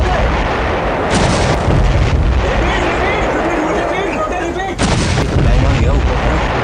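Indian army artillery guns firing shells toward Pakistani army positions, heavy sustained booming and blasts with two sharp fresh onsets, loud and dense throughout with a rumbling low end.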